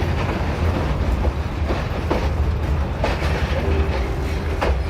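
A century-old train on the Dudhwa railway through forest and farmland runs steadily on its rails, with a continuous rumble and periodic clickety-clack wheel clicks, close and loud throughout without voices.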